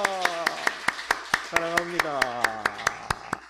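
Church congregation clapping together to welcome returning members at a Sunday worship service, a steady run of sharp claps under sustained singing or organ tones, with a brief spoken phrase.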